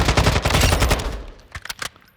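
Hip-fire gunfire from Call of Duty: Modern Warfare II, a dense rapid automatic burst lasting over a second, then a few separate sharp shots trailing off, loud and close with no talking.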